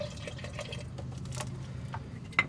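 Water being poured into a pot of thick chili: a short, soft, trickling pour with light splashes and drips that ends in a brief sharper splash.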